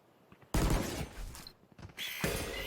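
Gunshots crack in a competitive tactical shooter match. One loud, sharp burst is followed by a quieter pause, then a second strong volley near the end, fairly close.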